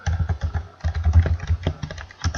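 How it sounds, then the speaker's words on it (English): Rapid clicking of a computer keyboard being typed on, a close burst of irregular keystrokes that pauses briefly midway before a few final taps. "Let me type in Pokebattle."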